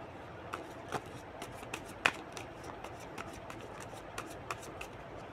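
Tarot cards being shuffled, a quiet run of soft riffling flicks and snaps at an uneven pace, close up and alone.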